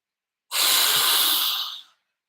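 A single nasal breath during a guided breathing exercise, a soft airy rush drawn through the nose for about a second and a half, close and clear, alone in otherwise quiet surroundings.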